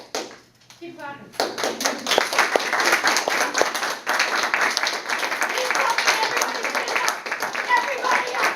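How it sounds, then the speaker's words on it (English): A crowd claps loudly and steadily, with dense overlapping applause that carries on without a break. "Keep clapping."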